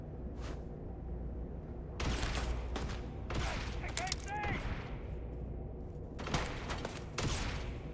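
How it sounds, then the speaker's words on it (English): Gunfire in the video game Starfield: bursts of rapid shots in several clusters, loud and close, with ringing mechanical tails between volleys and speech-like sounds under the action. "That's what you get when you run in front of gunfire, man."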